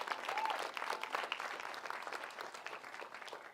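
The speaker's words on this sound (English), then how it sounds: "And they want to clap for that." Audience at a campus graduation ceremony claps, a soft, fairly distant burst of applause that tapers off gradually over a few seconds.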